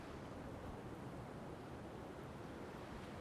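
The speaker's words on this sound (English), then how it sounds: "This is our local surf break just here." Ocean surf rolling in at a local surf break, a steady broadband wash of breaking waves with some wind buffeting the microphone, continuous and fairly close with no pauses.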